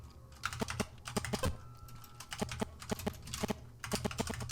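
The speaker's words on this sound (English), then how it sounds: "I lose the flow of the typing when I have to use a capital." Rapid typing on a computer keyboard, close and crisp, with irregular bursts of keystrokes separated by brief pauses.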